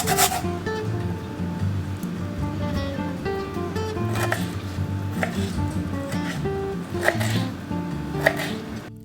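A knife taps and chops garlic and ginger against a cutting board in quick, uneven strokes, with a few sharper knocks standing out.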